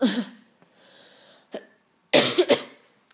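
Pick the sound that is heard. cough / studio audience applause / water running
cough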